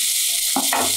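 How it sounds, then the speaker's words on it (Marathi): Onion hitting hot oil with cumin seeds, a broad steady sizzle that swells louder partway through as the onion goes in, close and alone with no talk. "कांद्याला आता परतून घेऊया. कांदा चांगला लाल होईपर्यंत परतून घ्यायचा."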